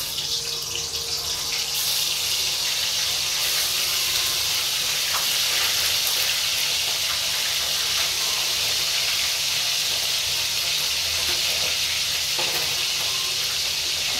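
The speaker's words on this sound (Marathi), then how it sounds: "हे पहा पनीर कसं तळून घ्यायला लागली." Medium-sized paneer pieces frying in a pan, giving a loud, close, unbroken sizzle with bubbling oil and occasional stirring scrapes over about fourteen seconds, with no voices.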